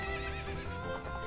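A horse neighs and whinnies in Zelda: Ocarina of Time, and hooves clip-clop along with it. The sound is steady and fairly quiet, with no talk over it.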